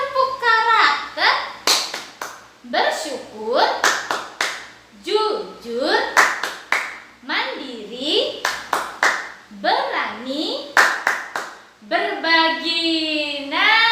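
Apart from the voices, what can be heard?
children's rhythmic clapping game, tepuk karakter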